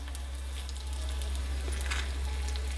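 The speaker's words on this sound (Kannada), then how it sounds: "ಸಾಸಿವೆ ಸಿಡಿಲಿಕ್ಕೆ ಶುರುವಾಯಿತು." Mustard seeds splutter in hot oil for a wild-leaf rayita: a steady close sizzle with scattered small pops and crackles, no voices.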